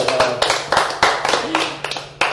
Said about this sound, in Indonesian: Tepuk tangan dulu buat Pak Nadiem lagi.